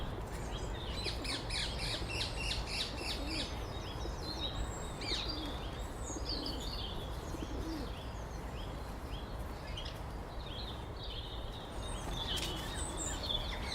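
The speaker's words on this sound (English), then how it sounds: "Great tits and blue tits." Great tits and blue tits call in Kensington Gardens, London, in March, with repeated thin high chirps and short song phrases over a soft steady park background, some calls closer and others farther off.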